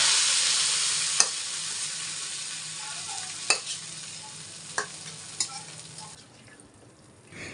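Chopped onion and garlic sizzle in hot oil as a tempering for letka khichuri made with Eid sacrificial meat, a steady frying hiss broken by a few sharp utensil taps, close and alone.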